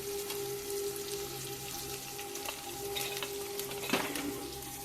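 Chopped onions and tomato fry in a pan for an Andhra-style egg curry, a soft continuous sizzle with a few light stirring scrapes and one sharper clink near the end, quiet and close, no voices.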